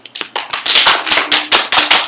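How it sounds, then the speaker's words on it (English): A small class of students claps along, giving a brisk round of applause with distinct, fairly loud hand claps in an uneven rhythm, close by and without talk. "Give yourselves a round of applause."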